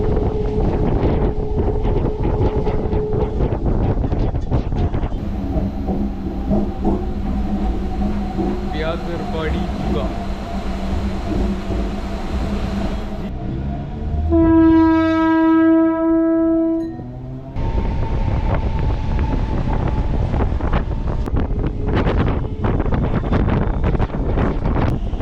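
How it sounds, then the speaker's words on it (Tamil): A Chennai suburban train runs from Chennai Central toward Pattabiram with a steady, loud rumble and rush. A long horn blast sounds near the middle, and a voice talks over the running noise throughout. "இப்போது ட்ரெயின் ஸ்டார்ட் ஆகிடுச்சிங்க"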